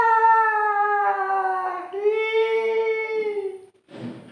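A person imitates a ghostly scream heard in a Kelantan forest near Gua Musang, with two long, close, howling wails that waver and bend in pitch, followed by a short breathy noise at the end.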